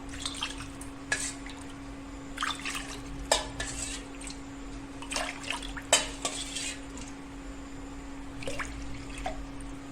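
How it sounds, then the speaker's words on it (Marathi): Water scooped with a bowl and poured into a pot for jowar flour dough: scattered clinks of bowl against metal and splashy pours, intermittent and close, over a steady background hum. "चार वाट्याच मी या वाटीनं पाणी यात घेत आहे"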